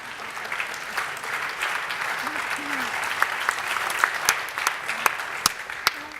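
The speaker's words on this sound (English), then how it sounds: "So these are a clap of encouragement, please" Encouraging applause from workshop participants at a rural electrification event, a steady round of clapping with a few sharp, close claps standing out and a brief voice in the background.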